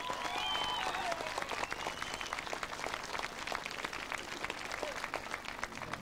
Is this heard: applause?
yes